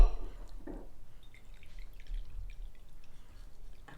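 About a third of a cup of water is poured in for pudding slime, a short splash early on followed by soft drips, with faint background noise.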